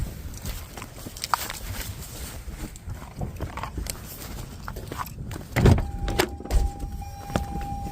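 A car's power window motor whirs briefly near the end, after a stretch of rustling and shuffling near the vehicle, with a couple of louder thumps before the whine.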